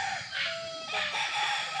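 Gamecock at a game farm crowing, a drawn-out high call fairly close and clear, with faint clucks and farm background.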